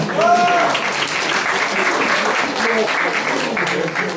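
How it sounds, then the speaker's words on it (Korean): Loud, dense applause from an audience at a school fusion concert rewarding a correct quiz answer, continuous clapping close and full for about four seconds, with a brief whistle at the start. "박수 주세요."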